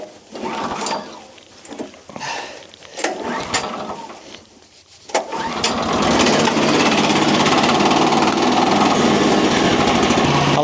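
A sawmill engine left unused for two weeks is cranked several times with rattling mechanical pulls, then catches and settles into a loud, steady running drone close by.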